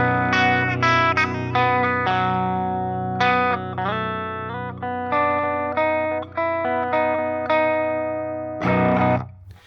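An electric guitar through a Fishman Fluence bridge pickup in Devin mode, played on the amp's clean channel at full output. A loud riff of ringing chords and single notes starts to break up, ending in a final hard strum.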